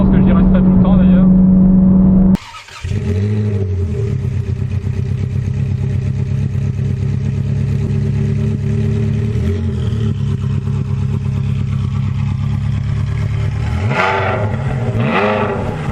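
A Ferrari sports car in sport mode, heard from inside, idles with a low steady engine drone, then hits a sharp break and continues as a loud sustained rumble, with rising sweeps near the end as it builds revs and accelerates.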